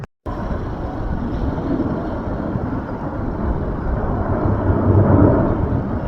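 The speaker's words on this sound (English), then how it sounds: "there's a big jet." A big jet passes high over Box Springs Mountain on a wet, cloudy day, a steady, broad roar that slowly grows louder. No one speaks.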